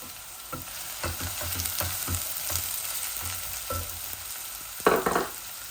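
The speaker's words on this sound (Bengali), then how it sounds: "এই যে বিসমিল্লাহ, আমি পেঁয়াজও দিলাইলাম লগে লগে।" Chopped onions with garlic frying in hot oil give a continuous close sizzle, stirred with scraping clatter and a louder burst near the end, no voices.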